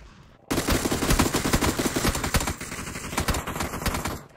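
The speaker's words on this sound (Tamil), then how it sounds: "இது M4 மாதிரி வந்திருக்கு கண்ணு." Rapid automatic gunfire from an M4-style assault rifle in the PUBG battle royale game on the Taego map, loud sustained bursts starting abruptly after a brief quiet lead-in, with no talking.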